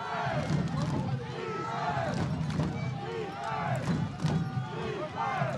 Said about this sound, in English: Crowd getting into it, chanting defense for the Bulldogs.